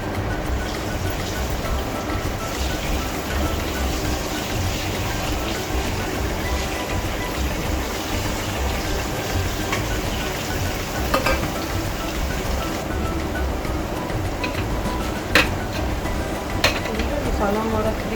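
Garlic and ginger paste sizzles and fries in masala in a pan, a steady dense crackling hiss that runs throughout with a few sharper pops near the end.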